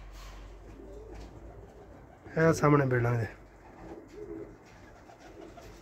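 Pigeons on a rooftop give one loud, close burst of cooing in the middle, set against a low background hum, while someone talks quietly before and after.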